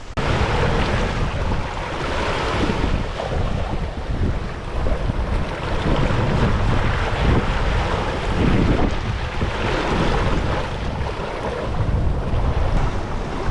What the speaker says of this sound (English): the swell not only makes our boat roll around from side to side